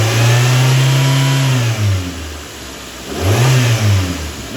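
A car engine, checked during diagnosis of an EGR fault code, is revved to about 2500 rpm with the throttle plate held open. The rev is held, drops back toward idle, and then rises again in a second loud, close rev. No talking.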